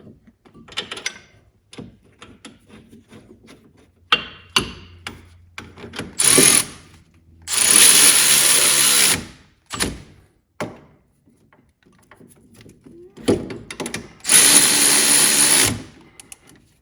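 A power tool bolts a caliper bracket onto the steering knuckle of a Chevrolet HHR during a front brake job, firing off several loud, sustained bursts of whirring with short clanks and thunks in between, heard close up.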